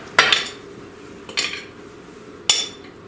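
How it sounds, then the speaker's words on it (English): Spoonfuls of artichoke mixture are scraped into a greased casserole dish, giving three separate bright clinks and scrapes of a spoon against the dish, close by, with quiet gaps between them. "Now we're going to put this into our greased casserole dish. So let me just spoon that in there."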